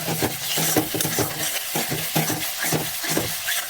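Tomato and spice masala for chhana kofta being stir-fried in a pan, with repeated scraping and clinking strokes of a spatula in a steady rhythm over a soft sizzle, close and fairly loud.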